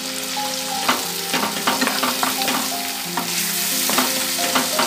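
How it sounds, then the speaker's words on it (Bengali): Onion and garlic paste frying in oil in a pan, stirred with a utensil, giving a steady sizzle broken by repeated scraping and clinking strokes, close up with no talk. "ভালো করে নাড়িয়ে নেব।"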